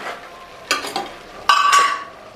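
Ginger garlic paste and tomato hit a hot pan with a few sharp bursts of sizzling frying and light stirring, the loudest burst coming near the end.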